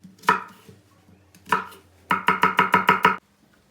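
A knife chops an onion on a cutting board, first in two separate chops and then in a quick even burst of about eight close, crisp cuts.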